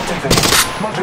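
Rapid gunfire bursts from a first-person shooter match in Apex Legends, a loud crackling volley peaking mid-clip over game sound effects.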